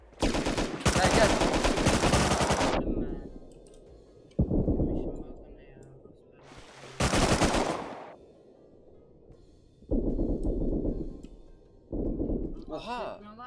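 Automatic gunfire in the survival game Rust, several loud sustained bursts separated by pauses, with people talking in between the shots.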